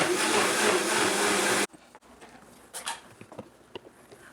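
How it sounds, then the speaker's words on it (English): Blender pureeing strawberries for buttercream frosting, a loud whirring roar for under two seconds that cuts off abruptly, followed by quiet kitchen clinks and rustles. "puree the strawberries for the buttercream"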